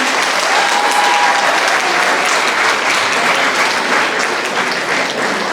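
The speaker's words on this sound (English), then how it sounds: "A big round of applause for her, please." At a teachers' awards ceremony on the Vengambakkam campus, a crowd applauds a commendation award winner with dense, steady clapping at a constant loud level. A faint tone briefly rises above the clapping early on.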